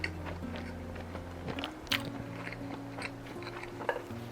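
Inari sushi, seasoned rice wrapped in moist fried tofu pouches, being chewed up close with soft, wet, squishy bites repeating in a steady rhythm, no talking.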